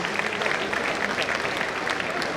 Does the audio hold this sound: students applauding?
yes